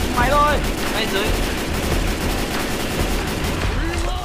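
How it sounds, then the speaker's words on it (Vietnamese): Rapid gunfire from a cooperative shooter video game, sustained bursts of shots over continuous game noise and music, with people talking faintly in between. "tập trung súng bắn vào nó đi"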